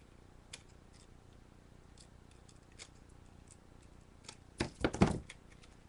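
Scissors trimming a paper craft piece for a candy-box tiki bar, with a few faint, sparse snips followed by a short, louder burst of close cutting near the end.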